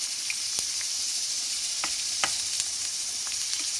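Mutton sizzles and fries steadily in a pan, a soft, even hiss with a few faint pops and clicks scattered throughout.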